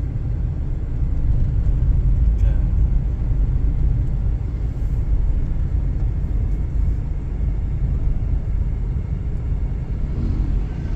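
A Daihatsu Sigra fitted with a catalytic converter pulls in third gear at low revs, its engine a steady, close, muffled rumble heard from inside the car with no talk.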